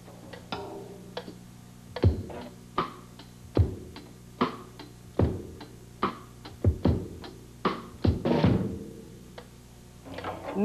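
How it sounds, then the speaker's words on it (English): A metronome set to about 70 beats per minute ticks steadily, each sharp click spaced evenly at moderate volume against a soft background hum, with no speech. "That's called a metronome"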